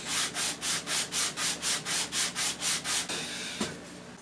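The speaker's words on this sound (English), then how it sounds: "get this corner sanded off where I was afraid to take it across the router table" A 180-grit sanding block rubs back and forth across the corner of a rosewood guitar body, about a dozen even, close strokes in a steady rhythm before a final longer scrub.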